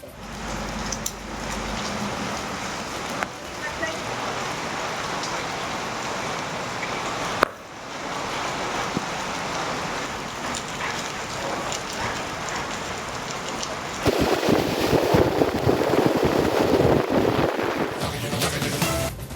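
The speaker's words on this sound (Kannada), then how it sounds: "4 ದಿನಗಳಿಂದ ನಿರಂತರವಾಗಿ ಮಳೆ ಸುರಿತಾ ಇದ್ದು" Heavy, continuous rain from Cyclone Fengal pours down in Karnataka with a steady, dense hiss of drops hitting surfaces. It swells louder and denser near the end, with no voices.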